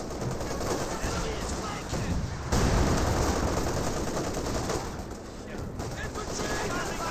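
Heavy .50 cal machine gun fire in Company of Heroes 2 rolls on as a dense, continuous battle din, with bursts and explosions layered throughout and a louder surge partway in.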